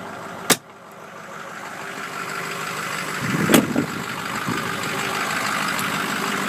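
A 2005 Ford F-250 King Ranch 4x4 pickup with a 6.0 liter Power Stroke diesel engine idles steadily, a low continuous drone broken by a sharp click near the start and a few louder knocks partway through.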